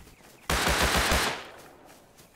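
Gunfire in the video game Rust: a loud, close burst of rapid shots lasting about a second, then a fading tail and a fresh sharp report at the very end, with no talk.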